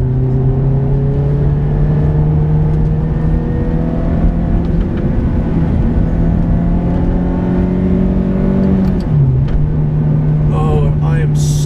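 Ferrari F430 V8 with a manual gated shifter droning steadily at high revs, with rising and falling engine harmonics, a brief dip near the nine-second mark as if a gear changes, then climbing again, loud and continuous throughout.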